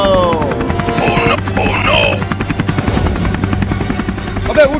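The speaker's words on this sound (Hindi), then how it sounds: "पर देखो वो हेलीकॉप्टर कैसे उड़ रहा है" A helicopter's rapid thudding rotor beat runs steadily throughout, loud and close, with voices speaking over it.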